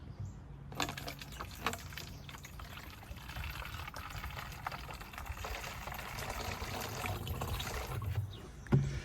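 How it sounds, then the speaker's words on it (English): Water poured from a container into two uncapped plastic water bottles, a steady continuous splashing trickle lasting several seconds, fairly faint and close, with a brief thump at the end. "I'm going to add some water"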